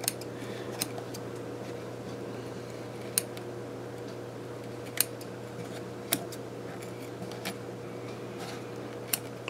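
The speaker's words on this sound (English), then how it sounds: "I'm just cutting these little jump threads here" Small scissors snip embroidery jump threads, giving sparse, faint, sharp clicks spaced a second or more apart over a quiet steady hum.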